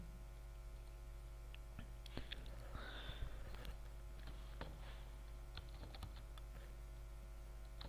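Keys clatter on a computer keyboard as a channel name is typed, a quiet, irregular run of light clicks over a steady low room hum.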